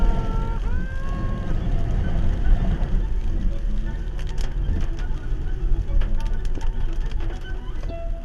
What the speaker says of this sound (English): when the rain is so intense and you've got puddles everywhere on the road